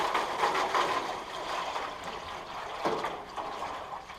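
Maple sap pours steadily into a boiling pan with a trickling, splashing wash for a few seconds, close by and alone.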